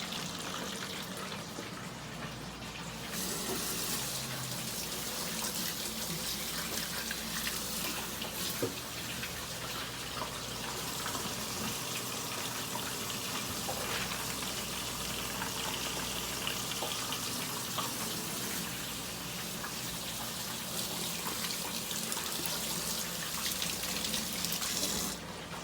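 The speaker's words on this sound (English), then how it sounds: "Let me rinse my hands." Water runs steadily from a kitchen tap for hands to be rinsed, a constant close gush with faint splashing changes that continues for about twenty-five seconds without anyone talking.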